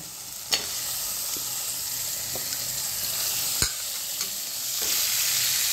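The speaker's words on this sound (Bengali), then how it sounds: "আমার মশলার থেকে তেল ছেড়ে দিয়েছে, এবার আমি দিয়ে দেবো চিকেনটা" Chicken pieces go into hot oil with cooked-down spices for a home-style chicken curry, giving a steady close sizzle with a few sharp clatters of stirring.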